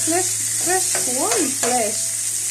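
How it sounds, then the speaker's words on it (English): Garlic sizzling in butter in a pan, a loud, steady hiss throughout with a few squealing tonal chirps riding over it. "I'm also going to add a little bit of garlic in this butter"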